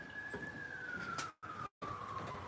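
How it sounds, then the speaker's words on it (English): Ambulance siren wailing along the road, a steady loud tone slowly falling in pitch as it passes, with traffic rumble underneath and two short dropouts. "That's an ambulance, is what it is."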